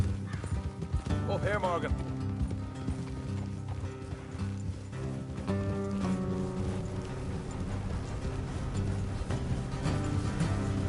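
Rhythmic clip-clop of hooves runs steadily beneath a man's speech in Red Dead Redemption 2, with a horse snorting near the start and faint tack jingling.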